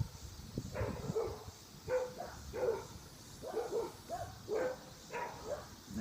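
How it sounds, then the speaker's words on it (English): Several dogs barking repeatedly in short irregular bursts, moderately distant, with no speech. "and of course my dogs have to bark at her."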